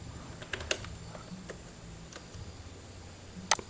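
Faint, sparse clicks of a computer keyboard as a command is typed while drafting in AutoCAD, a few soft keystrokes early on and a sharper cluster near the end over quiet room hiss.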